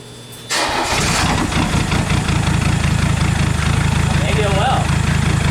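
A Mercedes 300SD diesel engine cranks and catches after its glow plug cycle, then settles into a loud, steady clattering idle that runs on to the end, with some talk from someone near it.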